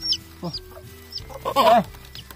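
Mother hen clucking with her chicks, soft near clucks and high peeping calls scattered over a couple of seconds, ending in a louder cluck.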